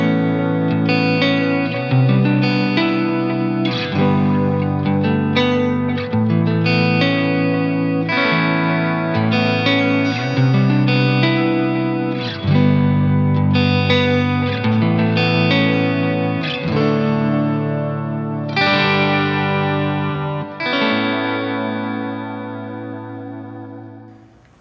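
Distorted electric guitar chords through a Fractal FX8 stereo panner effect play continuously with a warbling, spacious sound, notes shifting in a steady rhythm and ringing out at the end.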